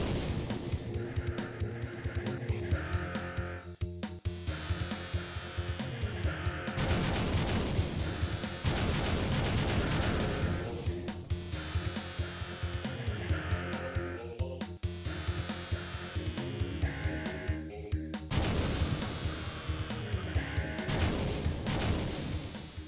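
Atari Jaguar game explosions and missile fire, a dense barrage of booms, blasts and rapid firing layered over electronic tones, loud and sustained throughout with brief dips between waves.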